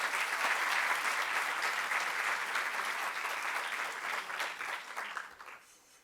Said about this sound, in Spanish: Un aplauso para Ita.